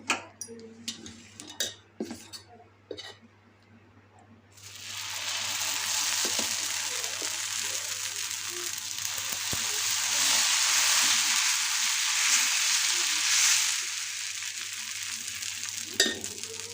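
Food sizzles and fries in hot oil in a home kitchen, a loud steady hiss that swells and holds after a few seconds of light clinks and stirring, with no voices.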